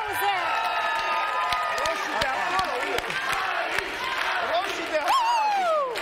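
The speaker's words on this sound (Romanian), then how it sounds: "Și galeria lor, aplauze!" A studio audience on a Romanian television show claps and cheers loudly, with whoops and shouting voices rising over steady applause throughout.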